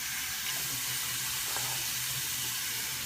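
Running tap water pours into a sink for rinsing off after a shave, a steady close hiss of flowing water with no voices.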